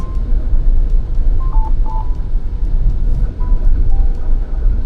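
A Chery Tiggo 7 Pro sounds its speed limit warning chime while driving, a few short soft electronic beeps heard inside the cabin over steady road and engine rumble.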